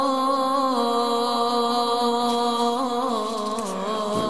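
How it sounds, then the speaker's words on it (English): An amplified Muslim call to prayer recording, planned for Duke University every Friday, heard as a sustained melodic chanting voice with rich harmonics, loud and steady, sliding between pitches with some reverberation. "a call to prayer for Muslims will be heard at Duke University for about 3 minutes every week."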